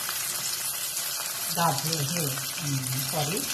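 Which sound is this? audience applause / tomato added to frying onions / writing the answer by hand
tomato added to frying onions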